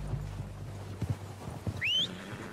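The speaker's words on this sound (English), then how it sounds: "They're coming down with the horses." Horses clip-clop over the ground in Red Dead Redemption 2, with a few scattered hoof hits followed by a high whinny near the end.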